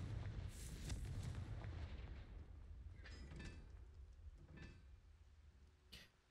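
Confringo fire spell explosions from the video game Hogwarts Legacy, a sustained rumbling blast with crackling bursts that fade, followed by a sharper boom near the end, loud and without talk.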